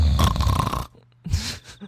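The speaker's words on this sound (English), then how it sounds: "Satoko's snoring sounded so subtle when I stood by the window." Satoko, a young girl character in the video game Higurashi, snores in two soft, raspy breaths separated by a brief near-silent pause, close and gentle.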